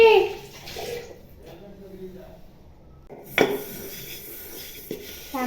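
Dishes washed by hand at home, with clinking pots, pans and cutlery and splashing water in short bursts separated by quieter pauses, close by.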